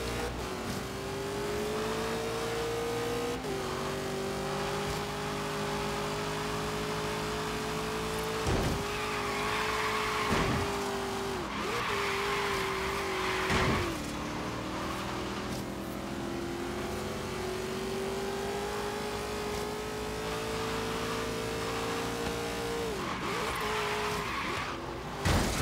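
Race cars in the game Forza Horizon 3, Hot Wheels expansion, roar steadily at speed with sustained engine drone, occasional tire squeals and skids, and brief impact thumps throughout.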